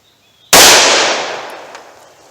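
A single loud, sharp gunshot from a .357 Magnum revolver firing 158 grain ammunition in single action, a sudden crack followed by a decaying ring-out over about two seconds.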